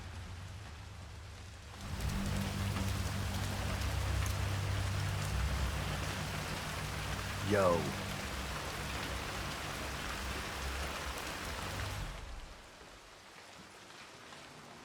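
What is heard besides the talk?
rain falling in a video game (Hitman 3)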